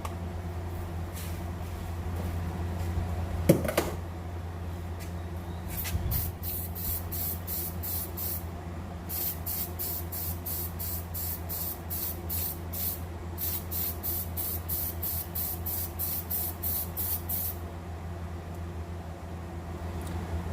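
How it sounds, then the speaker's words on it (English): Bursts of aerosol oil spray hiss onto a foam air filter in repeated short pulses, some longer, with a faint background hum and a couple of handling knocks. "Alright, so I'm gonna start spraying."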